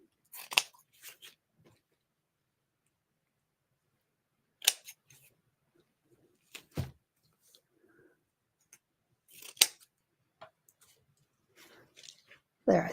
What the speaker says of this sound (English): I'm going to cut these tails a little shorter.